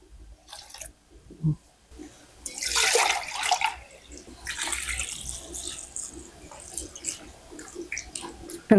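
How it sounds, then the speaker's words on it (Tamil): Water splashes and pours into a pot for mutton rasam in uneven bursts, close and fairly loud, with no talking. "இப்போ இதை ஃபுல்லாக தண்ணி ஊற்றிடலாம்"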